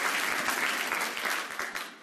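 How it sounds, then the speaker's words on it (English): Audience applause for award recipients at a high school senior awards ceremony: dense, steady clapping from a crowd that fills the room and tapers off slightly toward the end. "Tonight, would you please join me with a round of applause for Madison Roberts and Leonore Gonzalez."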